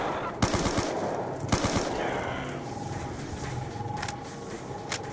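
Automatic weapon fire in the Black Ops II zombies map Origins, two sharp loud bursts near the start and another about 1.5 s in, followed by quieter game ambience and faint distant shots.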